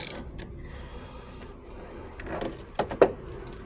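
A 10 mm socket loosens the positive battery terminal on a Ford Focus Mk2, making a few faint creaks and then two sharp, close ratcheting clicks near the end.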